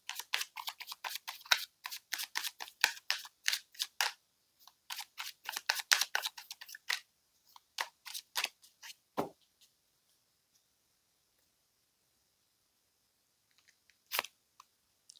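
Tarot cards are shuffled and pulled in rapid bursts of crisp snapping and flicking riffles, pausing briefly, then thinning into a few scattered flicks and one last card snap after a long quiet stretch.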